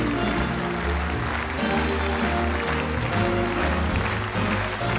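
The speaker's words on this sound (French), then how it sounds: "Je vous demande d'applaudir bien fort Amel Chabi" Audience at a comedy gala show clapping in a steady, dense wash, with music playing loudly underneath for the full stretch.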